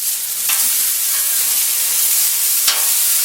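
Hamburger patties sizzle loudly on a Blackstone flat top griddle, a close, continuous hissing fry broken by a couple of sharp scrape-like ticks as they are turned.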